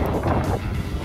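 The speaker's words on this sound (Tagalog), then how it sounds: "Paminawan ninyo ang hangin guys, grabe gyud ka kusog ka presko." Strong, cool wind buffeting the microphone on a mountain summit at dawn, loud rushing gusts filling a brief moment with no talk.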